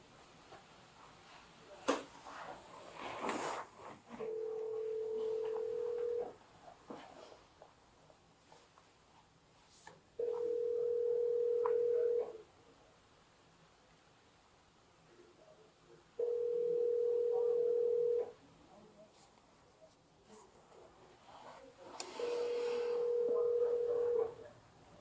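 Outgoing telephone ringback tone during a call attempt: four steady tones of about two seconds each, spaced roughly four seconds apart, clear and loud over faint background noise.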